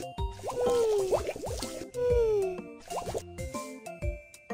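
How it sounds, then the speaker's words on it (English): Cartoonish squishy plops and drips as soap is lathered onto a puppy in a pet-care video game, repeating in quick bursts over bright, bouncy game music. "Apply some soap."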